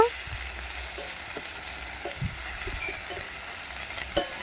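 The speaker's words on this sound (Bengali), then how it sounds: "এবারে আমি এতে পেঁয়াজ বাটা দিয়ে দিচ্ছি। পেঁয়াজটাকে একটু লাল লাল করে ভেজে নেব।" Onion paste frying in a pan, with a steady low sizzle and occasional soft stirring knocks and scrapes, heard close and alone without talk.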